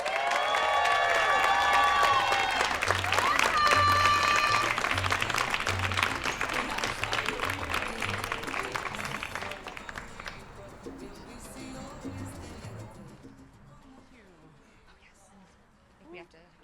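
Warm crowd applause and cheering at a Latino Heritage Month illumination event, loud and dense at first with a few voices and whoops, then thinning and fading out to near quiet.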